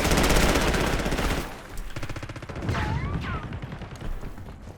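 Rapid automatic gunfire bursts in Black Ops 6 during a fight aboard a bullet train, loud rattling volleys that fade into scattered shots, a whooshing projectile and faint shouted voices.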